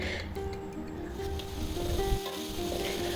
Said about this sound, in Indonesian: Kita goreng bumbu hingga benar-benar matang